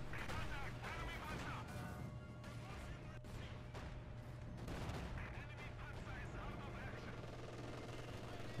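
An aircraft strafing gun run in Company of Heroes 2, heard as rapid bursts of gunfire and heavy booming impacts that crackle and crash repeatedly under a low steady hum, fairly faint overall.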